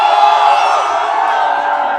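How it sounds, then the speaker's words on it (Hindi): Protest crowd at Jantar Mantar cheering and shouting, a dense, loud, continuous wash of many voices close by, sustained without a break for about two seconds. "क्यों ताली मारता रहता है क्राउड?"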